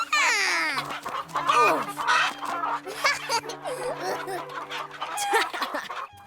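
Animated-series chickens in a chicken coop cluck, squawk and flap in an excited, overlapping flurry, close and lively, with a faint rooster-like crow among the rapid bursts.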